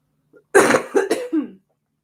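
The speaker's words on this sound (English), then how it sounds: "Sorry about my cough." A person coughs in two or three harsh bursts at close range, with a short throat-clearing rasp at the end and quiet on either side.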